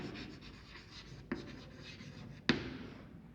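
Marker or chalk writing on a classroom board during a lecture on metals and non-metals, a steady faint scratching rubbing broken by two sharp taps, close and quiet with no talk.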